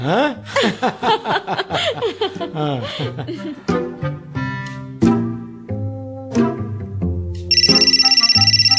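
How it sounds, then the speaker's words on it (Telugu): Laughter and lively voices from a stage comedy play give way to a phone ringing near the end, a loud, steady electronic ringtone. "ఫోన్ రింగ్ అవుతోంది, వచ్చి మాట్లాడు"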